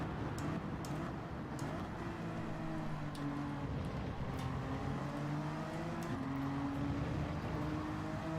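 Race car engines in Gran Turismo 7 at Interlagos, a close, steady drone of a car running in the slipstream behind a Honda, with rising and falling engine tones as gears change.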